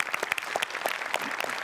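A studio audience at a Marathi comedy show breaks into loud applause, a dense burst of clapping that carries through the short moment on its own.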